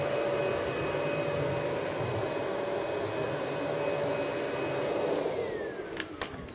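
A Dyson DC65 Animal upright vacuum cleaner runs with a steady, loud motor whine and rushing airflow, then winds down slightly near the end with a few clunks.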